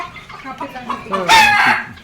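Free-range native village chickens on a farm with a pomegranate orchard cluck steadily nearby, and then a rooster's loud, drawn-out crow rises over the flock near the end.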